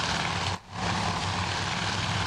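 Torpedo plane engines in a Coral Sea carrier battle video game, a loud continuous propeller drone that dips briefly then resumes, with no talk.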